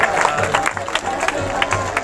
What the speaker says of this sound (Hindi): ताली बजाएंगे परमेश्वर के लिए जी।